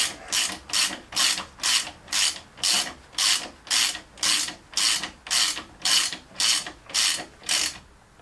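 Hand ratchet tightening the 17 mm nut on a Peugeot 206 shock absorber, spring and hub carrier assembly, giving fourteen steady, evenly spaced bursts of close, loud clicking, with no voices.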